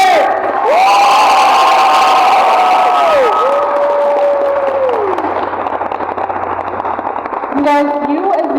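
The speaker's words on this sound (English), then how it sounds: "let's give another round of applause for our amazing partners!" Audience at a cosplay contest cheering, whooping and shouting in a loud, sustained crowd roar, with a bright whistle-like tone sweeping over it and a brief burst near the end.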